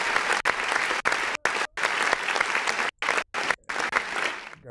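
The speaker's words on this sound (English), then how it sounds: "These claps are gonna get on my noise." Steady, dense clapping from a music video played back during a live indie-music reaction stream, with rhythmic claps running almost continuously and broken by a few abrupt short silences.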